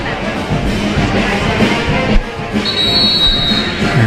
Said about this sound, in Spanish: el pitido del silbato para dar inicio con el segundo tiempo